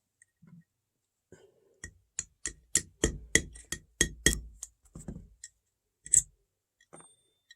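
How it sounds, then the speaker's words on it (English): Metallic clicks and taps from working the trigger pin out of a Stevens 12 gauge single-shot shotgun, a run of sharp close knocks with a final louder click, isolated in a quiet room. "The next thing we're going to pop out is going to be the trigger pin"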